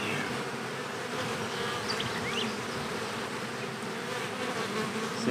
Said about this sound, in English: they fan their wings to send the scent out here